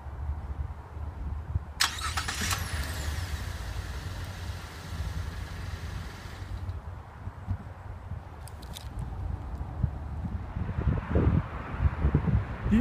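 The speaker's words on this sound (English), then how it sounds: "It also comes with remote start. Just click lock twice, then hold this down for 2 seconds." A 2015 Buick LaCrosse Premium I AWD starting up by remote start, a steady engine rumble at moderate distance with a brief crank burst early on and some wind noise across the microphone.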